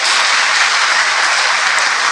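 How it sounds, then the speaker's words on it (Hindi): Audience applause at a Brahma Kumaris spiritual gathering in Shahabad Markanda, a dense, steady clapping that fills the whole stretch at close range, with no talk over it. "ताली बजाएं"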